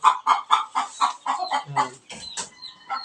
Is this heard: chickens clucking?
yes